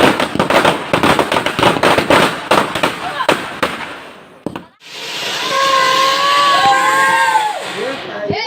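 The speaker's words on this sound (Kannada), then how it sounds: "ಈಗ ನಾವು ಹೊರಗ ಪಟಾಕಿ ಹಚ್ಚಂಬರ್ರಿ." Firecrackers go off outside an Ambabhavani temple in a dense run of loud, sharp bangs and crackles for about four seconds, then stop, leaving crowd murmur, voices and some high whistling tones.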